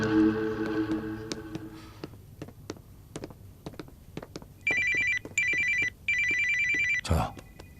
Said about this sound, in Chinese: 乔总，我去接个电话